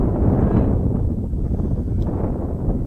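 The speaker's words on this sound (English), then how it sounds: "Wind gusting again." Steady wind gusting at an outdoor high school baseball field, a continuous low rumbling buffet across the microphone with no clear talk.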